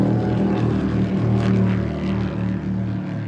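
A small dinghy's outboard motor runs steadily and close by, a loud, continuous droning buzz with a constant rumble, no voices over it.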